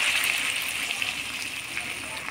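Milk poured into a cooking pot while making shukto, a Bengali mixed-vegetable dish, giving a steady, close liquid splashing and gurgling that runs without a break.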